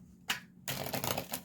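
Tarot cards are shuffled by hand, a single sharp riffle snap followed by a longer run of rapid papery shuffling close to the listener, with no talk.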